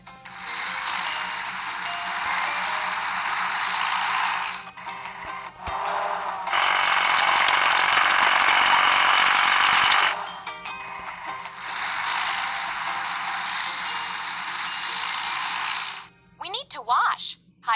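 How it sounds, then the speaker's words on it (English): A hydraulic hammer on a tractor in a kids' video game cracks rocks with a loud, steady mechanical rattling that runs in long blocks, surging briefly louder in the middle before a short pause and a clatter at the end. "Hydraulic hammer."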